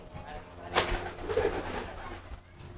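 Pigeons coo during courtship in a loft, giving a few soft, throaty coos close by, with a faint voice in the background.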